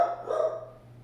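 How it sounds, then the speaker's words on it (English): A single short, close dog bark, fairly faint, fading quickly into quiet room hum. "so you hear my dog now."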